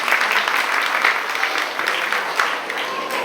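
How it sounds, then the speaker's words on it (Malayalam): A general meeting audience applauds the teachers, loud and dense clapping holding steady throughout the short stretch. "ടീച്ചർമാർക്കാണ് ശരിക്കും ഒരു വലിയ കയ്യടി കൊടുക്കേണ്ടത്"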